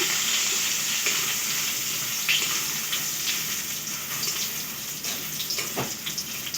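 Nigella seeds and other tempering spices sizzle in hot oil, making a loud, continuous close hiss with scattered pops and light stirring scrapes.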